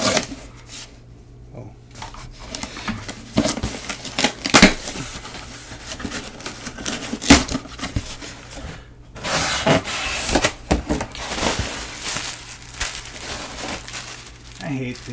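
Bubble wrap being pulled off and crinkled while a package is unboxed, with scattered rustling, crackling and handling noises close by at varying loudness, and a person talks during it.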